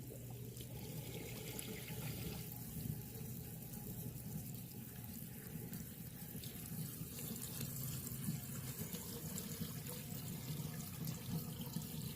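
Water rushes and gurgles steadily as it drains through a bell siphon on a 3-inch pipe, a continuous close trickling flow with no talking.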